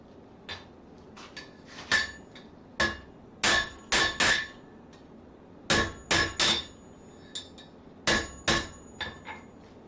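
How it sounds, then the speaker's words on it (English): A hammer strikes a bent metal piece held over an edge to straighten it. Sharp ringing metallic blows land close by in irregular bursts of two to four hits, separated by short pauses. "Just hang that part that I don't want to damage off the edge and hammer that down."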